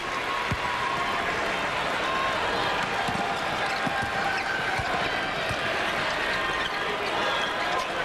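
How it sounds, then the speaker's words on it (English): At a 2002 Big 12 college basketball game between Iowa State and Kansas, an arena crowd stands and cheers in a continuous roar of applause, with a commentator talking over it. "they are standing and cheering"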